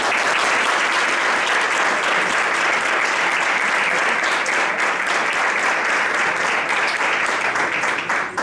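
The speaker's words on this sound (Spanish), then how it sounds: "que les demos, si os parece, un fuerte aplauso." Loud, sustained applause from a crowd at a municipal swearing-in ceremony in Lagartera, dense and steady clapping filling the whole stretch at a constant level.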